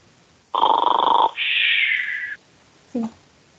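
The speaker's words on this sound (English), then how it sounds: "The mood is showing on the EV3 brick, right, making the snoring sound." A LEGO EV3 brick's speaker plays a synthetic snoring effect: a buzzy inhale followed by a higher whistling exhale, then a short faint blip, close and alone.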